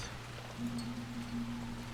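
Soft, steady rain hiss in the fantasy role-playing game Dragon Age: Inquisition, faint and even, with a low hum beneath it.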